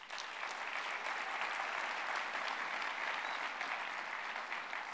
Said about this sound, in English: Can I get a round of applause for the first-timers?